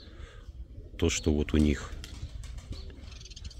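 Pigeons flutter and coo as they fly down toward someone crumbling bread, with a few loud, close bursts of calls and wing noise while someone talks over them.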